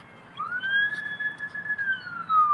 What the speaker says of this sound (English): It's an ambulance, you guys.